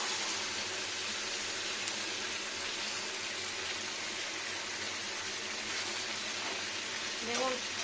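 Chicken and onion fry in a pan for a Bengali chicken kosha, giving a steady, loud sizzling hiss throughout, with a brief faint voice near the end.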